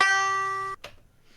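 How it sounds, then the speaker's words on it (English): A single banjo string is plucked once, ringing with a bright, harmonic-rich tone that sustains evenly for under a second before cutting off sharply, followed by a faint second touch and quiet tail. "This is not a great sample, but this is a banjo."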